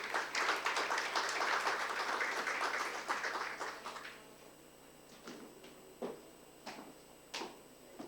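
An audience at an international life sciences conference applauds to welcome a speaker on stage, a full burst of clapping for about four seconds that thins into a few scattered, isolated claps.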